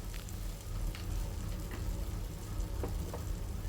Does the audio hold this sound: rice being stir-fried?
yes